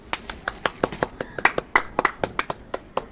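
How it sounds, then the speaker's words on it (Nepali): Hands clap in quick, fairly even succession, about fourteen sharp claps in three seconds, nearby and moderately loud, congratulating an older brother on winning first prize in classes 4 and 5. "ताली बजाइदेऊ"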